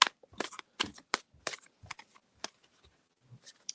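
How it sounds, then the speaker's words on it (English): Quick riffling snaps of cards being shuffled close by, in short bursts with brief pauses between them. "And I am shuffling for Pindarino"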